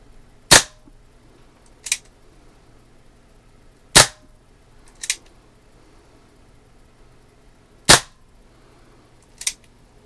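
Six sharp air pistol shots from a Daisy Red Ryder, spaced irregularly over about ten seconds, each a crisp, loud snap with quiet range ambience between them and no talking.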